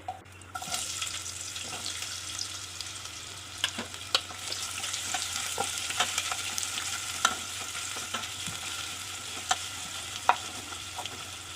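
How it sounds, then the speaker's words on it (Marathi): Chopped onion fries in a little oil and is stirred now and then. A steady close sizzle carries sharp clicks from the spoon scraping the pan, with no talking. "थोडंसं तेलामध्ये परतून घ्यायचं आता त्याच्यामध्ये कांदा टाकते"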